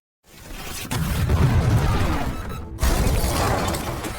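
A sudden explosive blast from a sci-fi habitat hub, caused by a fatal air leak at its entrance, erupts after a brief silence, followed by a long rumbling roar, a sharp cutoff, then a second surge of roaring debris and rumble.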